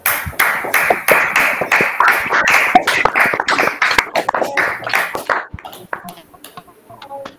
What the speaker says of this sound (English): just unmute your guys and just have a clap for them